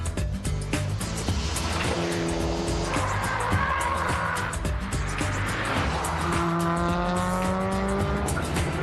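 A race car pushed to the limit in Gran Turismo 4 driving tests, its engine roaring loudly and continuously as tires squeal and skid through corners, with the revs rising and falling.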